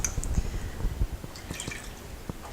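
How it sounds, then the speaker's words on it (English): Milk pouring into a pot while cooking leeks, a soft splashing, dripping liquid sound with squishy gurgles, close and fairly loud, no talking. "We have 6 ounces of milk, if you'd like to pour that in."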